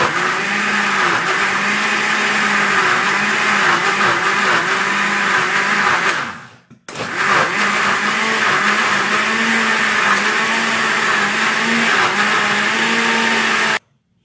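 A blender crushes ginger with water for ginger juice, a loud steady motor whine with a churning grind. It cuts out briefly about halfway, restarts and runs on at the same level before stopping abruptly.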